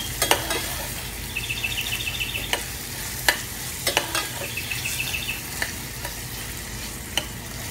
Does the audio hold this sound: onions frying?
yes